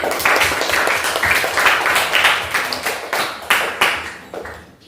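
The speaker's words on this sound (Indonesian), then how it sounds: "Tepuk tangan." Clapping in a classroom after a student's score is read out, a run of distinct claps from several people that swell and then fade in separate bursts, fairly close and clear, ending abruptly.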